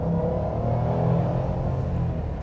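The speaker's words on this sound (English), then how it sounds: "the way the engine revs." The supercharged engine of a 2007 Ford Shelby GT500 drones with a steady, full-bodied rumble, rising slightly and holding under load from inside the car, with no voices.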